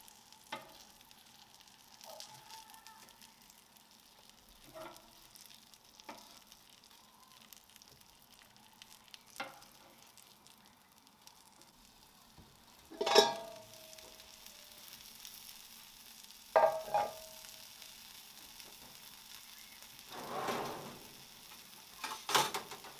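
Cod fillets frying in a pan, a quiet low sizzle running throughout, broken by occasional clicks and a few louder bursts as pieces are turned, no talking.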